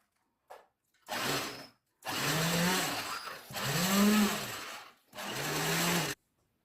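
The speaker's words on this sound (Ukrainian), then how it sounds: "Тепер цю всю масу подрібню блендером до однорідного стану." A blender purees a cottage cheese mixture in four bursts separated by short pauses, each a loud, steady grinding buzz, with a brief click before the first.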